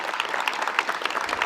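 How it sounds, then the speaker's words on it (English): An audience at a dedication ceremony claps in a dense, steady burst of applause that sounds fairly close and continues without a break. "Let's give them a round of applause."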